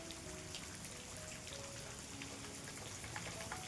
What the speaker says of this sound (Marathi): पाऊस म्हणजे रायगडमध्ये लय लागला आहे